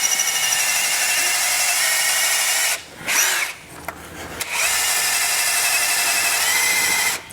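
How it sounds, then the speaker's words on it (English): A power drill bores into a car engine crankshaft with flywheel dust clogging the bit, a loud high whine that cuts out briefly twice before resuming, close and steady. "the drill's having to wig out, like the bit, because it's trying to cut 2 different densities of material"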